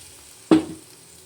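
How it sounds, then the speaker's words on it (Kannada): Crushed garlic and curry leaves drop into hot oil with a single sudden sizzling burst that quickly fades to a low hiss, heard alone without voices. "ಬೆಳ್ಳುಳ್ಳಿ ಜಜ್ಕೊಂಡು ಹಾಕಬೇಕು. ಕರಿಬೇವು ಸ್ವಲ್ಪ ಫ್ರೈ ಆಗಬೇಕು."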